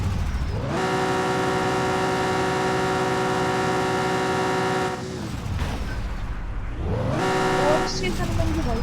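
A car in a video game revs and drifts, a loud sustained engine drone with strong steady harmonics that drops away, then sweeps back up through rising and falling revs.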